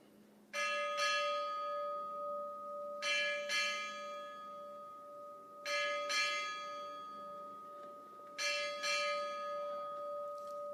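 A ship's bell strikes eight bells at a US Pacific Fleet change of command ceremony, ringing in four spaced pairs of bright, resonant double strikes, each lingering before the next pair.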